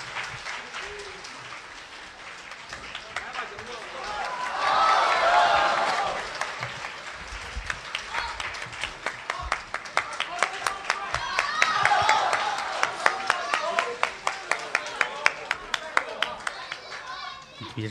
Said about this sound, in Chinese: 我们用最不热烈的掌声来邀请我们的六位嘉宾